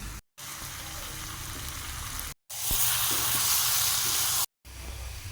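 Mutton fries with chili powder and spice paste in a pan, producing a loud, continuous sizzle that swells to a stronger hiss midway. It is heard alone, split by brief silent cuts.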